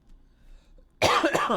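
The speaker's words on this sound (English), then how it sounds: "Boy, I'm just coughing nonstop." A person coughs hard in a burst of several harsh, close-up coughs that start abruptly after a second of near silence, loud and alone without speech.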